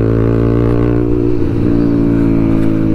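A TVS Apache RTR 200 4V motorcycle with a full system exhaust being ridden: a loud, steady engine drone with a rich low growl that dips briefly midway, close and continuous.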